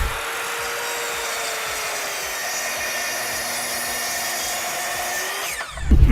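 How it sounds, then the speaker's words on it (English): A Kreg Adaptive Cutting System track saw rips a narrow 1/8-inch strip from a wood board, a steady loud motor whine with blade noise through the cut, then the motor winds down abruptly near the end. "Let's try an 1/8 inch strip."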